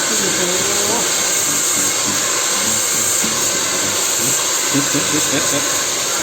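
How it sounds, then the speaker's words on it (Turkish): A hair dryer blows steadily on a child's hair in a barber shop, its constant loud rushing hum running throughout while people talk over it. "Mustafa'nın saçlarına fön çekiliyor."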